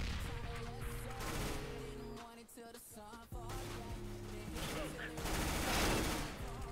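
Rapid P90 submachine gun bursts in Counter-Strike: Global Offensive, loud and dense, firing over game music with a short lull midway before the shooting resumes.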